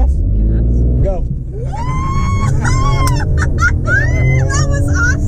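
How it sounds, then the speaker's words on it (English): A 2020 Ford Explorer ST launches off a brake boost, its engine roaring up loud and close as people inside talk excitedly over the rising rev. "So technically, to launch this is how you just hold the brake, give the gas"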